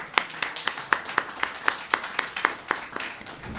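A small audience at a Hindi literary and poetry gathering claps in a slow, regular rhythm, about a dozen distinct, fairly close hand claps in steady succession.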